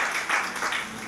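Applause from a church congregation, a brief burst of dense clapping that rises and falls, close and fairly loud.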